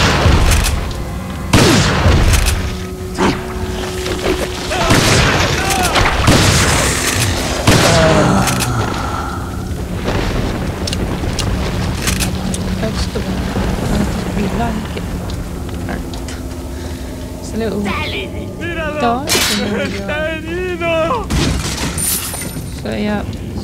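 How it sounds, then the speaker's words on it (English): Loud shotgun blasts from the Resident Evil 4 video game ring out as a few sharp booming shots in the first half, amid game noise and voices, with chatter continuing afterward. "Shotgun."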